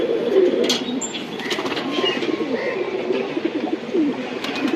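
Pigeons at a tournament loft coo in low, rolling murmurs, close and steady, with faint chirps and a brief wing flutter mixed in.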